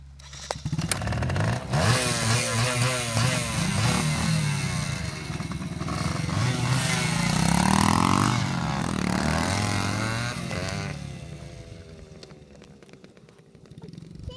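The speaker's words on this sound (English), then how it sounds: "We'll be doing some jumps on our bikes." Motorbikes riding and taking jumps, engines buzzing and revving continuously with rising and falling pitch as they accelerate, loud and fairly close throughout.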